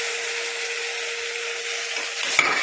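Chicken sizzles in a tomato-onion masala for biryani while being stirred, a steady frying hiss with a faint scrape of the spoon near the end.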